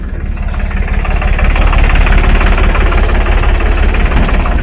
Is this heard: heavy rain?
no